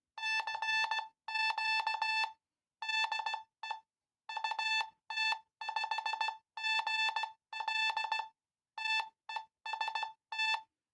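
A steady tone keyed on and off in short and long beeps, clean and bright, forming irregular Morse-like groups with brief silent gaps.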